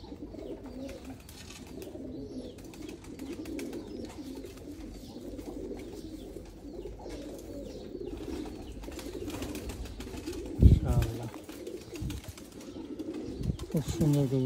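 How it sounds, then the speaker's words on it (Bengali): Teddy pigeons of an old bloodline coo softly nearby in repeated low, throaty phrases, with a person talking over them and a brief louder flutter or knock near the end. "খুব সুন্দর কবুতর।"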